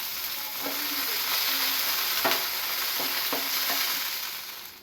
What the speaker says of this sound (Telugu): పచ్చిమిరపకాయలు శుభ్రంగా కడిగి ఒక కడాయిలో వేయించుకొని